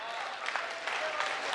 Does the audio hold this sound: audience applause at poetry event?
yes